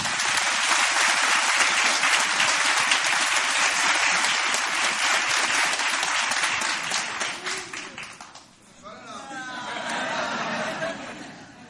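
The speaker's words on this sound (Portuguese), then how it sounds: "Vamos dar uma salva de palmas para Jesus?" A church congregation claps loudly and steadily for about eight seconds, with laughter and chatter mixed in. The clapping then dies away into murmuring voices and talk.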